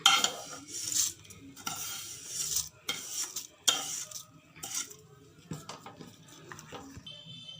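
A utensil scrapes and clinks against a metal pot while stirring milk for payasam, in repeated stirring strokes with brief pauses between bursts, close and fairly quiet.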